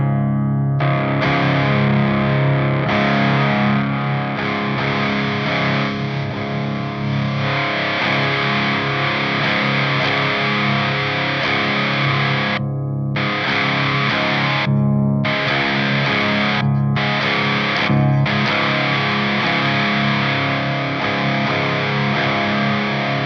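Electric guitar played through a Boss SD-1 Super Overdrive pedal into a clean amp, giving a loud, continuous overdriven tone of sustained chords with a few short stops and restarts near the end, with no talking.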